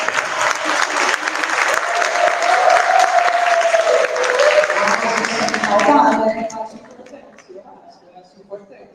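An audience at a book launch breaks into loud applause mixed with voices and cheering. The clapping cuts off abruptly after about six seconds, leaving quieter room sound.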